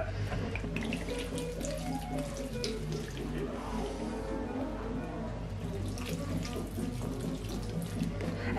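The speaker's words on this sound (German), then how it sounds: "Und jetzt kommt noch Wasser dazu." Tap water running steadily into a bowl of Russian shashlik marinade made with vinegar essence, a continuous close splashing gush with no talking over it.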